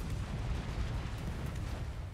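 Warship secondary guns firing in World of Warships, a rumbling barrage of low, distant booms and thuds rolling continuously, moderately loud with no clear pause.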